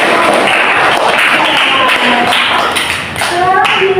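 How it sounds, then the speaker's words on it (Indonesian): Students in a classroom clapping their hands for a group that has just presented, a dense run of taps and slaps under a hum of voices. "Kita beri tepuk tangan."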